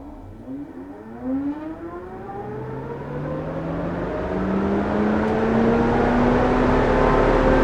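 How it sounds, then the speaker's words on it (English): A car's electric cooling fan, triggered from a scan tool, spins up steadily, its rising pitch climbing over several seconds and growing louder until it holds a strong, continuous drone. "And there's the fan."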